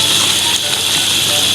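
Potatoes and egg fry in a cooking pot with a steady, close sizzling hiss that holds at an even level throughout.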